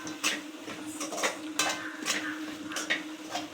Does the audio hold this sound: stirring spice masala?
yes